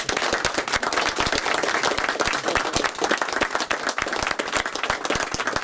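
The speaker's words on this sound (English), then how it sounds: "Let's have a round of applause for David." Dense, loud applause from a museum audience at a retro computing interview event, many hands clapping rapidly and continuously for nearly six seconds with no talk.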